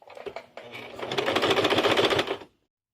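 A sewing machine stitches close along the edge of bias binding on a small fabric organizer pouch, a brief run of rapid, even mechanical clatter that starts, speeds into steady stitching and stops abruptly, close and alone.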